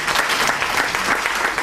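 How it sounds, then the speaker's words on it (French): Applause from an audience at a book signing ceremony, dense and steady clapping filling the whole moment at close range with no voices over it. "il mérite des applaudissements de votre part"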